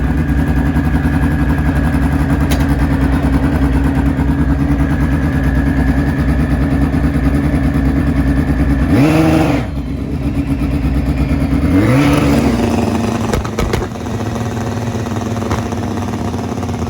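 A turbocharged drag racing motorcycle at a test session on a very sticky track roars loud and steady down the strip, with two sharp rising revs as it shifts and pulls away.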